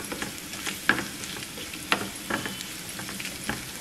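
Garlic, curry leaves and dried chillies sizzle steadily in hot oil for a tempering, with a close crackling hiss and a few soft stirring knocks against the pan.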